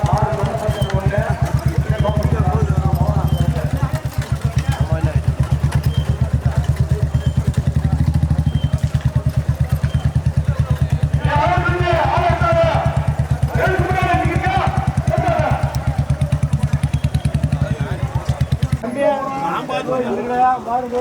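Motorcycle engines drone loud and steady at a village bike race in Chinna Ovilapuram, with crowd voices and shouting over the rumble until it drops away near the end.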